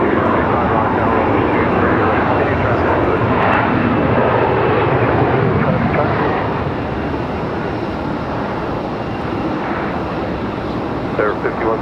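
Jet airliner engines at Raleigh-Durham International Airport, a loud broadband roar that holds strong and then eases slightly, with voices talking over it.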